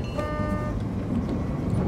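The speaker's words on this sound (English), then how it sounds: "It's a shame it uses the same ding-ding, ding-ding as the, you know, the other tram." A double tram's bell rings once in the game Tram Simulator Urban Transit. The short ringing tone sounds over a continuous low vehicle rumble.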